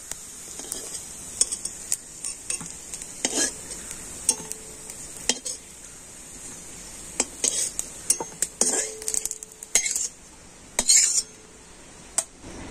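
Fish-roe fritters are lifted out of hot frying oil, with a steady soft sizzle broken by scattered metallic clinks and scrapes of a utensil against the pan, close and with no talking.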